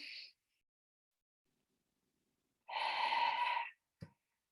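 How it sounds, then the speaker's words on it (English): A person taking a breath, a brief exhale at the start, then silence followed by a fuller airy inhale or exhale of about a second, close to the microphone, ending with a small mouth click. "So I'm going to do another breath."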